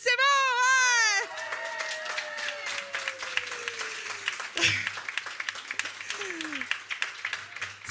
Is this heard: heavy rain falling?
no